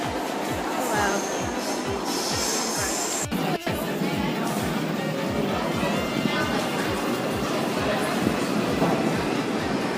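Inside a German train station, a train rumbles past with rhythmic clickety-clack wheel beats over rail joints, a steady mechanical drone with a sharp clank midway, while people talk nearby.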